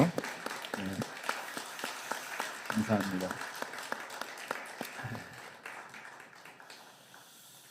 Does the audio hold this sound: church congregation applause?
yes